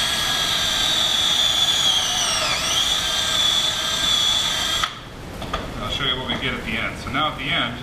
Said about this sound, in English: So we're just going to go ahead and drill this.